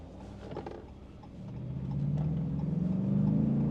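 The Hemi engine of a Ram Power Wagon fitted with a K&N cold air intake revs up from a low idle rumble into a rising, growing roar, close and loud, with no talk over it.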